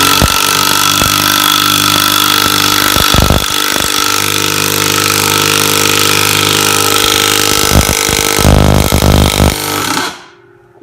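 A Kimo 20V cordless 1/2-inch impact wrench hammers a bolt into a 4x4 wood post with no pre-drilling, a loud, continuous rattling burst lasting about ten seconds, with a harder surge near the end before cutting off.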